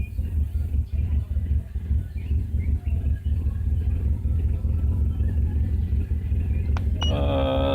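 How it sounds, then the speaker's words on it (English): A Subaru Legacy engine idles with a heavy, uneven low rumble and a pulsing, stumbling rhythm from misfiring, steady and close, ending with a brief beep. "It's misfiring terribly, very terribly."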